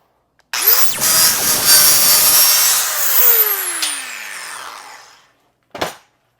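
A power saw bites into a 16-inch support tube with a loud, sustained grinding whine for about five seconds, then the blade winds down in a falling tone, followed by a short clunk.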